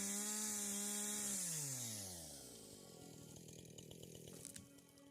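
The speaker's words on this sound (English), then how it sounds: "My dad sent me a brand new chainsaw, so it was a great excuse to try it out" A brand new chainsaw felling trees runs at high pitch, then drops in tone as it bites into wood, cutting with a rough, buzzing rattle; fairly faint and distant.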